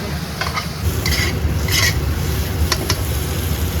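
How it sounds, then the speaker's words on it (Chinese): Taro pieces stir-fried in a wok with scallion, ginger, garlic, chili and chili bean paste, a spatula scraping and chopping with steady sizzling and repeated metallic scrapes, loud and close, no talking. "然后我们再把这个芋奶给它倒下去，用铲子给它切成小块，不用刀切"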